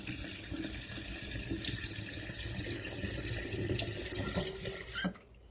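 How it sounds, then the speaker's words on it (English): Water runs steadily into a bucket of chicken feed for fermenting for several seconds, a continuous splashing pour that stops abruptly near the end. "then you just put your water in there."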